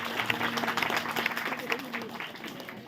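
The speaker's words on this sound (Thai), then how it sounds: "ขอให้ที่ประชุมปรบมือแสดงความต้อนรับครอบครัวใหม่ครับ" Wedding guests clap to welcome a newly married couple, a moderate burst of applause mixed with crowd murmur and voices talking over it.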